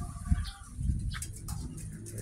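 A pigeon that has just come out gives soft low cooing pulses, close but quiet, with faint chirps and rustling around it.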